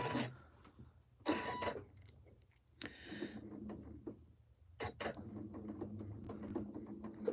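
A sewing machine, set up for free motion quilting, runs in a few short mechanical bursts while putting in a couple of securing stitches, with clicks and handling noises in the quiet gaps between.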